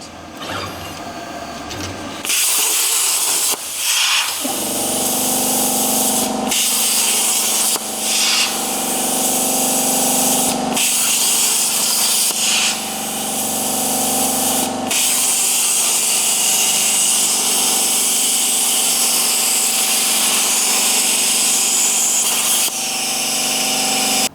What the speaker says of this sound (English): Now being a plasma cutter, they generally don't give the best finish in the world.